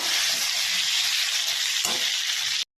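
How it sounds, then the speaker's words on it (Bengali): Pointed gourd (potol) with grated ginger fries in oil, giving a steady, close, bright hiss and sizzle with one soft knock before it cuts off abruptly to silence. "এবার আমি পটলটাকে ভাজবো।"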